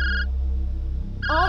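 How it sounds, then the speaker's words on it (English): Phone ringing, a loud electronic ringtone that sounds briefly, pauses, then starts again, close and alone with no voices. "Answer the damn phone!"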